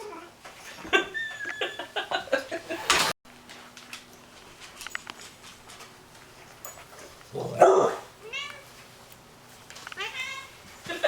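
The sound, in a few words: fat grumpy cat during nail trimming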